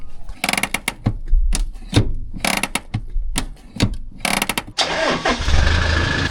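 Toyota Land Cruiser 70 series with a 2.8 1GD engine and automatic transmission, running with the axle turning the wheels; repeated sharp mechanical bursts and clunks give way to a steady, noisy engine hum, loud and close.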